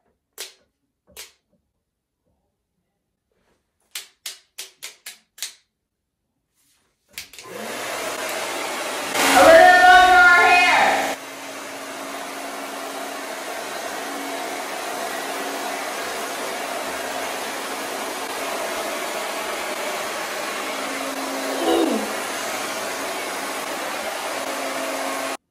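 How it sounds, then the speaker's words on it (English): An old hair blow dryer wrapped in duct tape runs with a steady loud airy roar. It starts after a few sharp clicks, surges briefly louder, then holds a constant whoosh to the end. "My ghetto blow dryer has duct tape around it."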